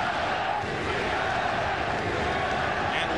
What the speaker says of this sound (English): And what a crowd. They go back and forth, chanting, cheering, challenging each other